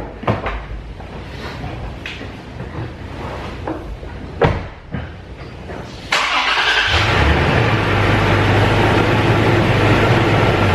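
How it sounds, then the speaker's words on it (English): A Toyota Tacoma pickup, preceded by door and handling clunks at close range, cranks and fires into a steady idle that rumbles on as it begins backing out. "So we're going to back this truck out, which is the Tacoma, of course"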